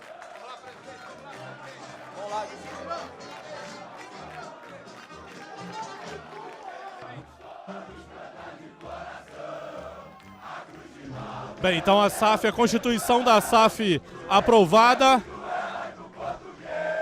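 Vasco football supporters at a club meeting in Calabouço: someone talks over crowd noise at first, then a loud, excited chorus of fans chanting and shouting rises in bursts near the end.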